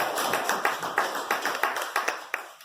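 A small audience gives a transport minister a round of applause: a loose, irregular patter of hand claps at moderate distance that thins out over a few seconds.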